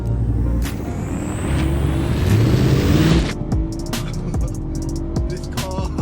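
A BMW E90 M3 saloon with a dual-clutch gearbox drives along, its engine note rising to a loud, sustained drone, then easing off with a hiss and clicks as it settles.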